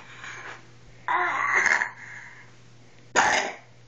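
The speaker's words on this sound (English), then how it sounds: "Got a bad cough." A child gives a couple of rough, raspy coughs, one drawn out and wheezy, then a sharper cough a moment later, close by.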